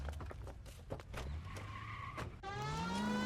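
Game car driving in L.A. Noire, with engine drone, a brief skid-like burst, then a rising motor tone that grows steadily louder toward the end, heard alone.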